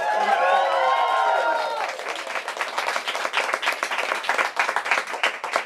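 Audience applause at a bookstore event, dense clapping from a crowd that starts full and steady, then thins into scattered individual claps near the microphone.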